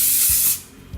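Olive oil sprayed onto a pizza base in one strong, close hiss of about half a second, then quiet apart from a couple of low thuds.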